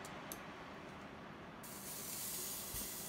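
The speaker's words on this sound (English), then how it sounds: "Listen to that sizzle." A broad, steady sizzling hiss starts up partway through and continues loudly as a New York strip steak sears in a Ninja Foodi electric cooker, with no talking.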